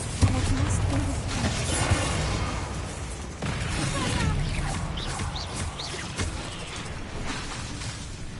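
A Confringo blast spell destroying an object in Hogwarts Legacy: dense, sustained crackling bursts and shattering debris within a loud, busy game soundtrack, with a sharp impact near the start and another a few seconds later.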